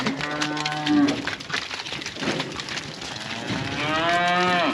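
Cattle moo on a farm, several long, loud, close bellows with rising and falling pitch overlapping one another, with no talking.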